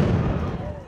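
A ceremonial cannon fired by a marksmen's fraternity at a town festival gives a loud close boom that decays into a low rumble within a second.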